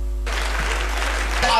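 Applause from a crowd, a steady wash of many hands clapping that swells slightly toward the end, with some voices mixed in.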